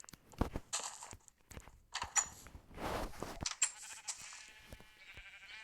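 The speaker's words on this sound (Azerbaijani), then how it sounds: "Yəni belə bir sinifdə nə qədər adam var, o qədər qoyun, toyuq var burada" Blocky Minecraft sheep bleat several times in a short burst, close and fairly clear, over faint soft game footsteps and with no talking.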